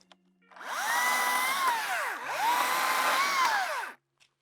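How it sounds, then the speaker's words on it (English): A chainsaw cuts into a tree spar, two steady high-pitched bursts of engine whine, each dipping as it bogs in the wood, loud and close with no talk. "when I pull out the saw for cutting"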